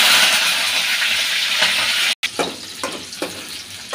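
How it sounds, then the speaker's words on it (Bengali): Bay leaf, chopped garlic, onion, ripe green chilies and yellow mustard seeds dropped into hot oil for a lentil tempering, giving loud continuous sizzling that cuts out briefly, then returns softer with scattered pops and stirring clatter. "এই যে এবার ডাল বাগার দেওয়ার জন্য দিয়ে দেবো প্রথমে তেজপাতা, এবার রসুন কুচি, একটু পেঁয়াজ কুচি, আর 3টা পাকনা কাঁচামরিচ, আর সর্ষে"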